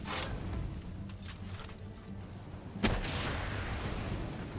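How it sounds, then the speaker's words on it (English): Rockets and a fireball from the Wixen weapon exploding in a video game fight, with a sharp blast near the middle standing out over a steady bed of dense game noise and scattered booms. "2 rockets and a fireball from Wixen, and we ended up killing him pretty quickly"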